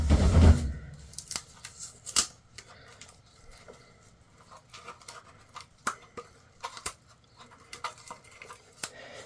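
Scissors snipping tape off a Cloud Strife cosplay armour gauntlet, a string of small, sharp, irregular cuts and crinkles, close and quiet over near silence after a brief louder thump at the start.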